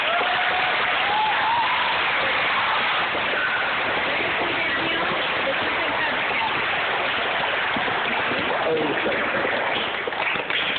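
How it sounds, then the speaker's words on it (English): Sustained audience applause at a choir concert, a dense wash of clapping filling the hall steadily for about ten seconds without pause. "Let's give him another round of applause."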